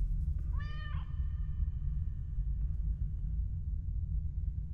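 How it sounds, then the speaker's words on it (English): A cat gives one short, clear meow near the start, heard over a steady low rumble of background noise that continues alone afterward. "Cat."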